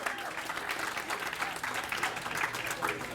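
Audience at a Hall of Fame induction ceremony applauding, a steady wash of clapping from a large crowd filling the room, continuous and moderately loud throughout.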